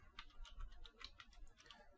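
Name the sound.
typing on a computer keyboard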